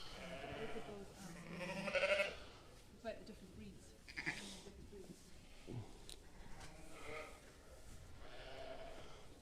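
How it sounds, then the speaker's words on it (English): A lambing ewe on a farm bleats a few times, fairly faint, amid a quiet barn background with someone talking softly. "There's a ewe lambing there."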